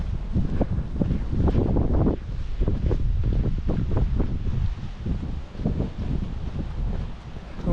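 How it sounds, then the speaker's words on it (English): Strong wind on a coastal walk between Wadebridge and Newquay in Cornwall, a loud continuous buffeting rumble gusting against the microphone, close and unbroken, with no voices. "Where the wind is strongest, it does blow me around."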